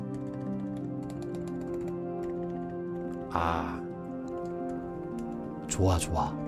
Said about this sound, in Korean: 일단은 좀 타건감이 정말 궁금합니다. 스테빌라이저 상태부터 먼저 체크를 해보자면요